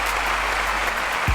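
A live audience gives steady, dense applause, a continuous wash of many hands clapping that fills the short moment.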